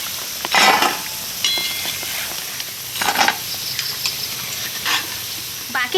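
Wheat-flour biscuits deep-frying in hot oil give a steady sizzle, broken by several louder bursts of bubbling and stirring.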